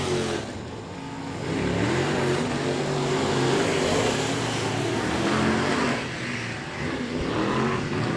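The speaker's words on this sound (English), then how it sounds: "You listen to that machine, he's already on the rev limiter coming down the front stretch." A mini sprint race car at a speedway hits its rev limiter down the front stretch, a loud, continuous engine drone that holds near one pitch, rising and dipping slightly.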